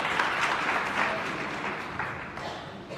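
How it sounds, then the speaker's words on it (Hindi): An audience at a motivational talk gives steady applause for two participants, a dense wash of many hands clapping that fades slightly toward the end. "एक बार इन दोनों के लिए जोरदार तालियां"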